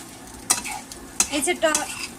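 Beef pasta in tomato sauce cooking in a pan, with a soft sizzle under a few sharp scrapes and clinks of a utensil stirring against the metal.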